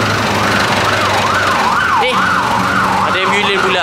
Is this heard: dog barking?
no